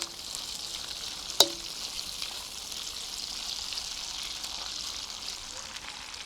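Sausages fry in a pan outdoors, a steady bright sizzle and crackle running throughout at moderate level, with one sharp clink near the start.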